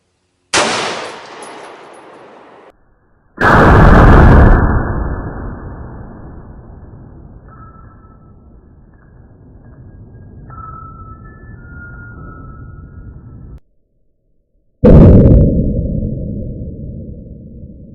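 A 10mm/40 cal pistol fired at a block outdoors: three loud, sharp shots spread far apart, each trailing off in a long ringing decay, with quiet stretches between them.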